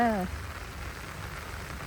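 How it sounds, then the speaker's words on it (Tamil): Steady heavy rain hissing and pattering on a surface in Scotland, with a short voice fragment at the start. "என்னப்பா இப்படி ஊத்துது மழை."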